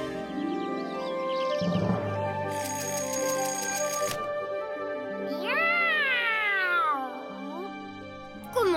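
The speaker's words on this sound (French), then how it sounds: "Comment ça, miaou?" A cartoon cat lets out a string of exaggerated, rising and falling meows and caterwauls, close and fairly loud, mixed with bright musical cartoon effects and no talk.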